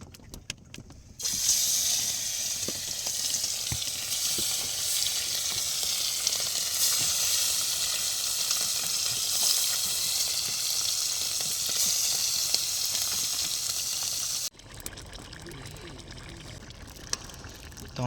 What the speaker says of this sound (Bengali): ভাজা হবে, ঠিক আছে, আমাদের মাছ